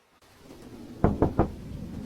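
Three quick, firm knocks on a door at night, close and distinct, against a quiet room hush.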